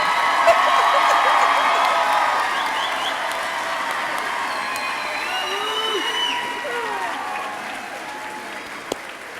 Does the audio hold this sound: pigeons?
no